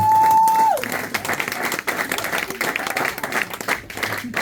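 A church congregation applauds at a worship service, dense continuous clapping with crowd noise, starting after a brief tone and continuing for several seconds.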